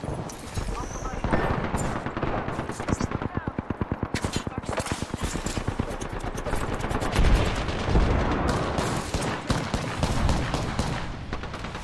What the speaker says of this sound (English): how many people are shooting at me?